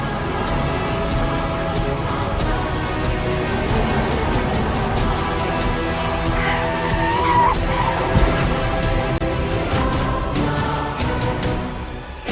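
A car skids with squealing tires, loud and sustained for several seconds under a dramatic, music-laden mix, with engine noise and a sharper squeal rising midway.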